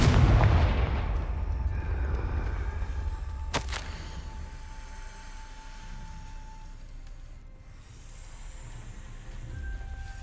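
A Confringo fire spell exploding in Hogwarts Legacy, a heavy booming blast at the start that rolls away into a low rumble, with a sharp crack midway and a quiet hum trailing after.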